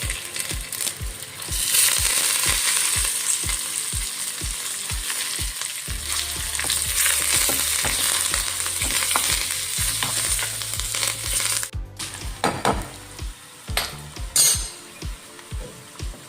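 Dry red chillies, cumin and a couple of sprigs of curry leaves crackling in a hot tempering for tamarind moong dal rasam, a loud close sizzle with repeated spoon taps and stirring scrapes against the pan.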